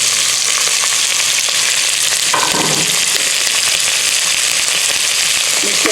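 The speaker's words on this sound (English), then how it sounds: "The oil is really hot now, so I'm gonna put this onion, garlic, and the ginger." Onion, garlic and ginger sizzle loudly in very hot oil for a Bisaya utan dish, a steady dense crackling hiss that runs throughout, with a brief stir or shift in the middle.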